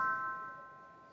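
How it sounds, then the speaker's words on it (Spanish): Church bells ring faintly at a distance, a sustained metallic tone that slowly fades over about a second with no voices. "Es que pasan las campanas."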